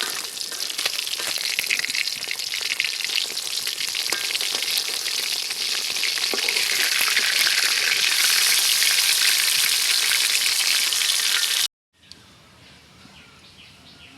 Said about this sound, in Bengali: মাছ ভাজা হয়ে গেছে, তুলে নিব।